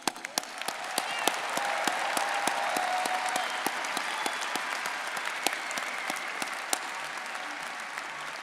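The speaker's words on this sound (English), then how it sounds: "One more round of applause." Applause from a crowd at a university commencement ceremony, a dense sustained round of many hands clapping with a few sharp individual claps standing out, heard alone at moderate distance.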